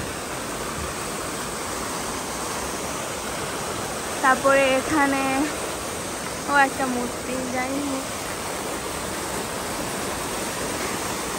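A fountain with frog statues in spring-time Berlin, Germany, gives a constant broadband rush of splashing, flowing water, close and even. A person speaks briefly over it partway through.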